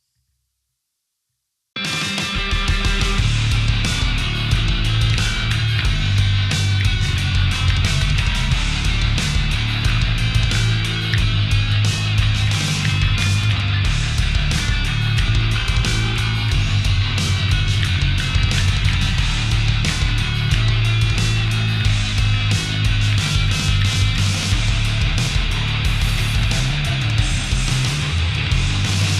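A bass guitar plays along with a dense, loud full-band mix of a song's chorus, starting after about two seconds of silence and then running continuously.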